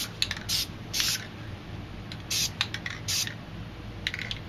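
A spray paint can releases white paint onto a stencil in short hissing bursts, several quick spurts and a few longer sprays with gaps between, close and crisp, with no talking.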